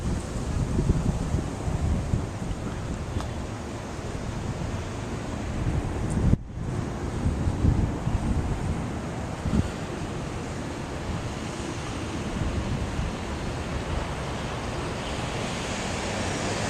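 Atlantic Ocean waves wash ashore at Sunny Isles Beach, heard from a high open deck as a continuous distant surf hiss mixed with wind noise on the microphone, with one brief dropout midway.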